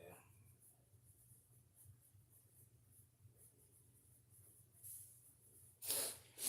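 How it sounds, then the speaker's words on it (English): A pen scratches faintly and intermittently on paper, close by and quiet, with soft breathing and low murmurs around it. "Let me write that down because I will forget."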